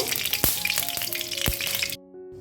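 Dried red chillies cracked by hand and a bay leaf frying in hot mustard oil, a loud, dense sizzle with a couple of sharp spatter pops that cuts off abruptly, leaving faint hum.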